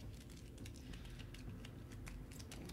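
Initiative cards for the Mice and Mystics board game are shuffled by hand in a quick, steady run of soft papery patters and clicks, close up, with no talking.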